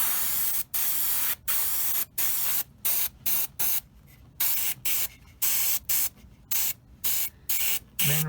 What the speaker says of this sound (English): spraying the inside of this first, and then I'll spray the parts that haven't been attached yet